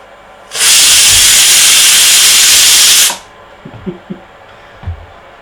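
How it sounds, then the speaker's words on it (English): A stove-top pressure cooker on an induction cooker lets out a loud, close burst of steam. The hiss lasts about two and a half seconds and stops abruptly, followed by a few faint clicks and knocks. "I can certainly hear it heating up well."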